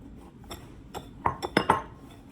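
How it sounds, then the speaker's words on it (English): A spoon clinks and scrapes in a bowl of brown and white sugar with vanilla, giving several sharp taps and clinks close up, spaced over a couple of seconds, with no talking. "I'm going to stir it into my brown sugar and white sugar and incorporate it as well."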